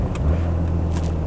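A 1997 Nissan Skyline GT-R R34 with its RB26 engine catches and settles into a steady, close idle rumble, short and alone.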